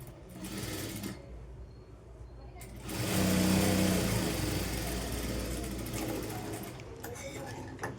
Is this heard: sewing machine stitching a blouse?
yes